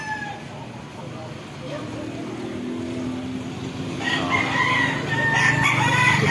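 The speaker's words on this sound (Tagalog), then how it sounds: "Ayan, manok naman po." Outdoors in a sunny city park during preparations for a feast, a rooster crows against a busy wash of background noise while people talk nearby.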